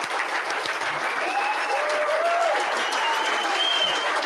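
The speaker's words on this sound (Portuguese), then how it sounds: "Palmas para essas pessoas." Applause from an audience at a committee hearing, dense continuous clapping filling the whole stretch, with a few faint voices and whistle-like calls mixed in.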